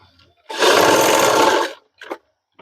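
A sewing machine runs loud and steady for about a second, stitching the back pocket of a men's trouser, then stops, followed by a couple of short faint clicks and handling sounds.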